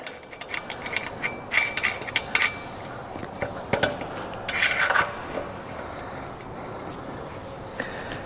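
A washer and castle nut are worked down onto a Detroit Speed suspension part, producing close metallic clinks, scrapes and ratcheting clicks in irregular bursts over a low background.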